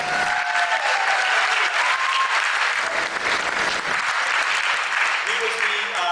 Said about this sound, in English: Biggest round of applause tonight, except for our panelists, will be for Brady, our intrepid timekeeper.